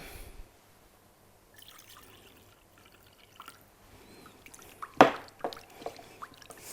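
Quiet, intermittent trickling and dripping of water into dough mixed with egg, salt and oil, ending with a louder splashy pour and a few wet squishes.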